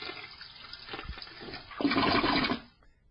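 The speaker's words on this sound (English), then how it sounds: "Do I have a toilet flusher?" A toilet flush sound effect rushes and gurgles for about three seconds, swelling to a loud peak before draining away, with no voices.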